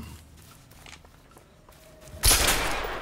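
A single loud gunshot blasting a lock in the video game A Way Out, sharp and close, following a few seconds of quiet ambient room tone and faint shuffling.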